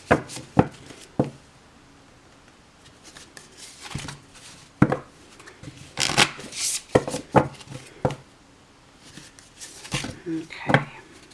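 Short bursts of cards being shuffled close by, brisk riffling rustles separated by pauses, with a little quiet talk mixed in.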